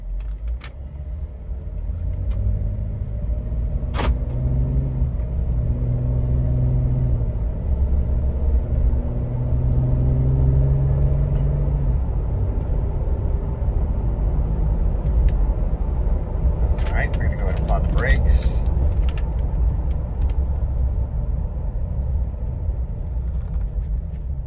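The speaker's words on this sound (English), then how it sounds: "now we're gonna go ahead and take it on a quick test drive." A 2012 Jeep Wrangler Unlimited Sahara with an automatic transmission on a short test drive, giving a steady, loud low engine and road rumble throughout, with a few faint clicks and brief rattles and no talking.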